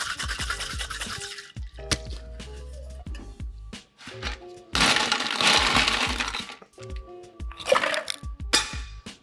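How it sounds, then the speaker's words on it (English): An egg white cocktail is dry shaken in a cocktail shaker, giving bursts of sloshing, rattling shaking separated by short pauses and light clinks, fairly close and with no talk. "It's got an egg white in it, so I'll dry shake first to emulsify it."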